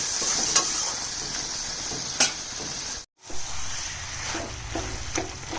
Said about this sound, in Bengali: সেটা দিয়েই আমি 3-4 বার করে অল্প অল্প জল দিয়ে কষাচ্ছি